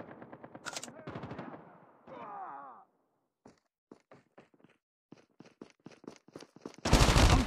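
Turret machine gun firing in Call of Duty Mobile: a voice speaks at first, then a string of sharp, evenly spaced shots crackles out, ending in a loud burst of fire.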